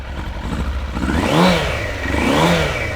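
A Suzuki Bandit 600 motorcycle engine, running poorly, revs up twice, rising and falling in pitch over a rough idle, loud and nearby.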